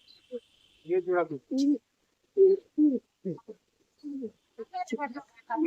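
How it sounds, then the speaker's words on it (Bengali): Pigeons at a home loft make repeated low, throaty coos in short separate bursts, fairly close and moderately loud, with brief pauses between calls. "পায়রা ভালো আছে"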